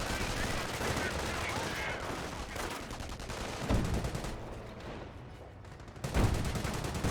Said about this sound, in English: Got the bar squad engaging, as well as the MG here suppressing the Grenadiers.